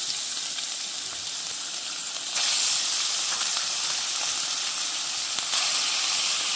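Ground meat hits a hot pot for lasagna and sizzles in a loud, steady hiss that swells partway through, with no talk.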